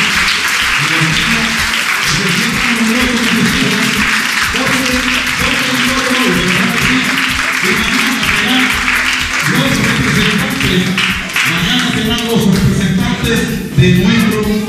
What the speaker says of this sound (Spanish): yo quiero que le den un aplauso a todos los padres que están aquí